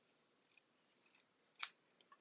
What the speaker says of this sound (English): So now I'm just going to take my scissors.